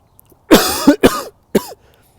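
A person coughs three times at close range, two quick bursts followed by a shorter third, loud against a quiet background.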